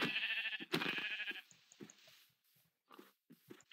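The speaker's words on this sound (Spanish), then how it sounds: "Y justo aquí tengo ovejas." Several sheep bleats from the Minecraft video game, a loud burst of layered cries at the start followed by quieter, scattered bleats and soft game sounds.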